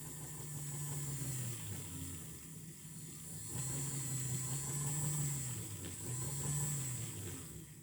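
A Hornby Flying Scotsman model locomotive's small electric motor runs at full power, a steady whirring hum that rises and dips in pitch in slow waves, close and fairly quiet with no talk.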